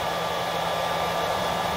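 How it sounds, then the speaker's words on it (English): A blow dryer blowing steadily on a Mi-Ki puppy's coat on a grooming table, a loud, constant whooshing hum that holds without a break and has no voices over it. "having the blow dryer just blow on them from the table"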